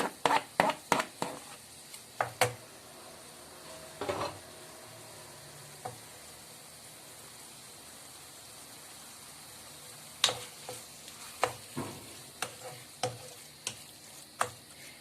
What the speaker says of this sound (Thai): นี่นะคะก็ผัดประมาณนี้ ผัดทุกอย่างเข้ากัน